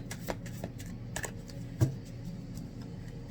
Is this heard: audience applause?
no